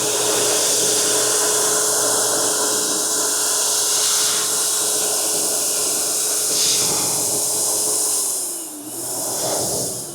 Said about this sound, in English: AMI 1300 watt hand dryer